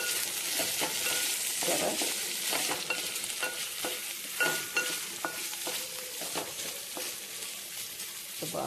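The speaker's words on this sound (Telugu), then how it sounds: "ఇదండి ఉల్లిపాయ మగ్గింది" Onions sautéing in a pan with a continuous loud sizzle, broken by repeated scraping and stirring clicks of a utensil against the pan; one brief word is spoken.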